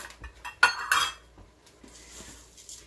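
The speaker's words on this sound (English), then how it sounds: "I'm going to stir that all in." A spoon clinks against the inner pot of an Instant Pot while stirring lentils, with a couple of sharp metallic knocks followed by softer scraping.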